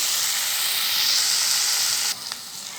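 Tomato masala sautéing in a pan, a steady close sizzle and hiss that drops suddenly near the end to a quieter crackle.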